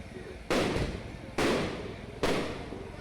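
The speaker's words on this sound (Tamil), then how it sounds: "வான வேடிக்கை வெடிச்சிட்டே இருந்துச்சு" Fireworks burst at a village temple festival, three sharp loud bangs about a second apart, each trailing off over a steady background hum of the crowd.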